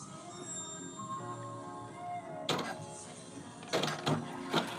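A home sewing machine sewing trousers fires off a few short, loud mechanical bursts in its second half, over steady hip-hop background music.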